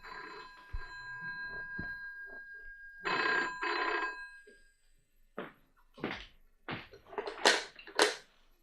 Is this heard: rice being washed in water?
no